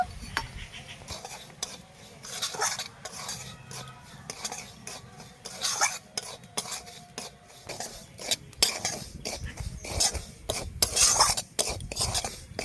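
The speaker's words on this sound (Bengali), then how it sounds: "এটা হালকা করে আমি ভেজে নেব।" Semolina paratha frying lightly in a little oil or ghee in a kadai, with steady scraping and stirring of a metal utensil against the pan and occasional clinks, close and moderately loud, no talking.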